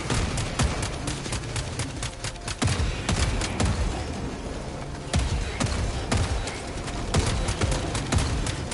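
Video game gunfire from an assault-style gun, heard as rapid repeated shots and bursts over a dense, loud, continuous game soundscape throughout.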